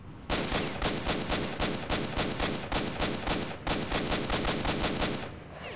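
Sustained AK rifle fire in S.T.A.L.K.E.R.: Shadow of Chornobyl, loud rapid automatic bursts with a brief pause midway before firing resumes, no talk.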